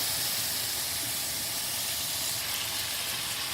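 Chopped potatoes and green chillies tipped into a hot pan of spiced oil while cooking aloo ande, giving a loud, steady broadband sizzle and hiss that holds constant throughout with no talk.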